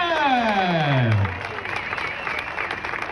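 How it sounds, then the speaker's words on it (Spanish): A crowd applauds cyclist Jon Izagirre at the start line of the 81st Clásica de Getxo. A loud sliding tone falls away over the opening second, then a steady wash of clapping carries on to the end. "El aplauso de todos nosotros a Jon Izagirre"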